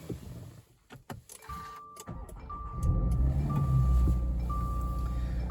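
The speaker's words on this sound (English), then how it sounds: "Okay, now that we're inside of the car, let's go ahead and turn it on." A 2023 Subaru Crosstrek Sport started from inside the cabin: a few soft clicks and a chime tone, then the engine catches and settles into a steady, close idle hum, with no talking.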